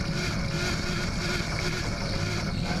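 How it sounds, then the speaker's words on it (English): An LS V8 engine held on the rev limiter during a burnout at Perth Motorplex, heard as a continuous, faint, distant wailing drone with a slight pulsing flutter. "These LS motors have a really unique sound. They make their own squeal or a wail"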